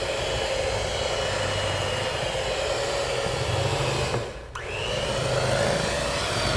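An electric mixer whirs steadily as it blends brown sugar into cinnamon butter, a loud continuous motor drone that dips briefly near the end before resuming, with no talk.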